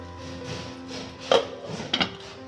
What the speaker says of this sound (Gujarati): હવે આપણે ઢાંકી દઈશું ઢાંકણ